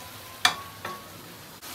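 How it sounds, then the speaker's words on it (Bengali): Fried eggplant drops into sizzling cooked-down spice paste in a pan, with a sharp clack, a second softer hit and a low frying hiss underneath as it is stirred. "মশলাটা কষানো হয়ে গেছে আর ভেজে রাখা বেগুনগুলো দিয়ে দিচ্ছি"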